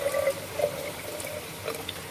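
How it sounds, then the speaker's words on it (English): Water pours into a glass jar of Alfredo sauce, a soft splashing trickle with brief gurgles, close and moderately quiet with no talking. "I add about 1/4 of water to one of the jars"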